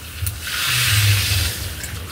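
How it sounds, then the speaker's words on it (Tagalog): Water poured into a pot while cooking chicken feet adobo, a steady splashing pour that swells for about a second then tapers off, close and alone without talk. "Lagyan ng tubig."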